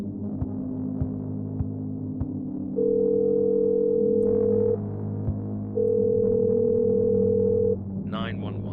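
A steady telephone ringing tone sounds twice in long, even bursts over a low droning hum in the horror video game The Silent Suit, with a faint voice briefly at the end.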